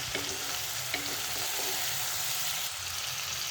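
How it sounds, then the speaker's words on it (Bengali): Hull-on beans, potato and tomato fry in a pan with a dense, continuous sizzle and light stirring scrapes, close and steady throughout. "শিমটাও পুরো ভাজা হয়ে গেছে"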